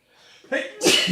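A single sneeze, close and loud, with a short intake of breath before the burst.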